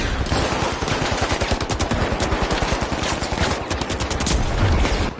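Relentless rapid turret gunfire in The Finals, a fast, even stream of sharp shots at close range that hammers on for several seconds without letting up.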